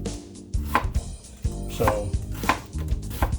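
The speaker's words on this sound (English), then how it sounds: "I just like to cut garlic with that knife." Garlic is cut with a knife on a board: a string of sharp, close chops arriving in uneven bursts, with a short spoken word near the start.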